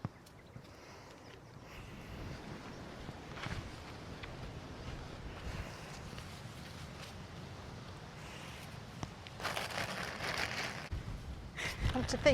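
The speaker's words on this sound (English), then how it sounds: "this wind is so strong" Strong gusty wind buffets a microphone outdoors in a garden plot during potato planting, a steady low rumble with louder blasts toward the end.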